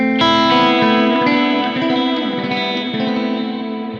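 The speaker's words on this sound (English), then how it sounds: "you still hear the guitar come through and the reverb sort of acts like a bed underneath" Sustained guitar notes ring out loudly, drenched in reverb that leaves a wide, shimmering wash lingering behind each chord.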